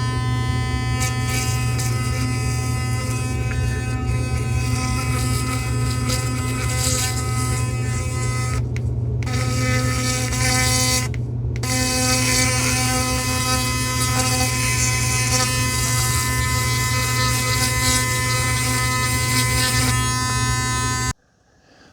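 A Philips Sonicare 4100 electric toothbrush buzzes continuously at close range, a steady high-pitched drone with two very brief interruptions before it cuts off at the end.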